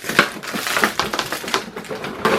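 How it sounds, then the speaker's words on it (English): A small 1/16 scale WPL C14 RC crawler sliding out of its packaging, close crinkly rustling and scraping of cardboard and plastic in quick bursts. "Sliding this thing out of the packaging"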